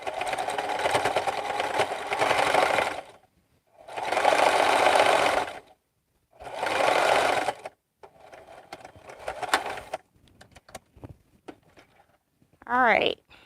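A sewing machine stitching cross-body bags runs in three loud bursts of a couple of seconds each, then lighter intermittent stitching and a brief final burst, with a voice talking in the pauses.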